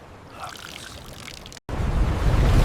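Water rushes and pours off the hull of a 1943 U-boat being lifted from the deep, a rough splashing wash that briefly cuts out and then returns louder and heavier, close and full.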